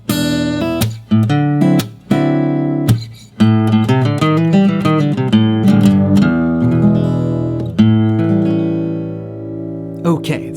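Advanced blues turnaround lick on electric guitar, with quick string bends, sharp plucked notes and short pauses, closing on ringing sustained chords, close and clear with nobody talking.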